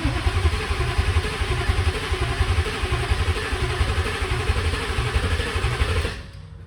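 A Ford F-150's swapped-in Coyote 5.0 V8 truck engine, being primed, chugs and clatters in a steady rhythmic idle, loud and close, then cuts off abruptly near the end.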